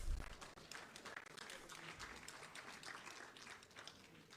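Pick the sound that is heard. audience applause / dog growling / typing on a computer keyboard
audience applause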